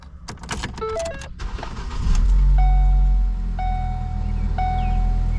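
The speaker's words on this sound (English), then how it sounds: "And then now we can start the car." Keys jangle in the ignition of a salvage-auction car that had crash data reset, dashboard chimes ring, then the engine cranks and catches into a steady low idle while repeated warning tones beep over it.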